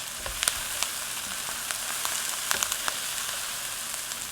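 Garlic fries in a pan with a steady, soft hiss of sizzling oil, dotted with small pops and crackles throughout, close but fairly quiet, with no voices.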